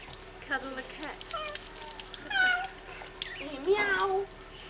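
A cat meows several times in a village, short, close, rising and falling cries, with a person's voice talking around them.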